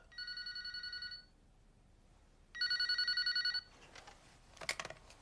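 Two bursts of electronic telephone trilling ring in Yakuza Kiwami, each about a second long with a pause between, followed by faint clicks and a handset pickup clatter.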